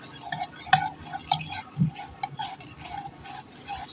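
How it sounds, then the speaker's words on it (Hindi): Batter being lightly mixed in a bowl for buns after yeast and baking powder are added, a spoon tapping and clinking against the bowl in a quiet, irregular rhythm. "फिर भी हल्का सा मिक्स करूंगी"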